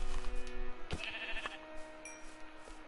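Sheep bleating in Minecraft, a few short bleats in close succession over steady game background sound, clear and near with no talking.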